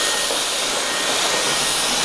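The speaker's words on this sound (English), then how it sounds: "You're going to want to vacuum the scales up on the floor." A household vacuum cleaner sucking fish scales off a kitchen floor after crappie cleaning, giving a loud, constant, airy roar and hiss that stays steady throughout with no talking.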